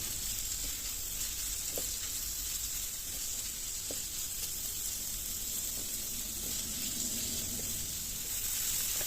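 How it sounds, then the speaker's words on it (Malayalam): Onions sautéing with a pinch of salt in a pan for a Kerala-style green peas curry, a constant bright sizzle and hiss with a few faint stirring taps, no voices. "ഈ സവാള വഴണ്ട് വരാൻ വേണ്ടിയിട്ട് ഒരു ശകലം ഒരു 1 പിഞ്ചോളം ഉപ്പ് മാത്രം ഇട്ടിട്ട് നമുക്കൊന്ന് ഇത് നല്ലോണം വഴറ്റിയെടുക്കാൻ ശ്രമിക്കാം"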